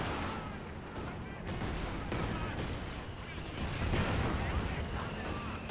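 Werfer rocket artillery barrage in a multiplayer World War II strategy game match, a dense, steady rumble of explosions and crackling fire that holds for several seconds, with no pauses.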